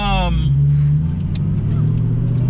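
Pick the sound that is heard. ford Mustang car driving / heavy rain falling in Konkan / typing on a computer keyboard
ford Mustang car driving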